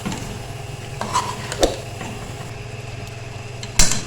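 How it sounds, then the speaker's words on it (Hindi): Chicken sautés with masala in a karahi pan, a low, steady sizzle with occasional scrapes and clinks of a spoon stirring against the metal. "चिकन को मसाले के साथ भूनते हुए 5 से 7 मिनट हो गए।"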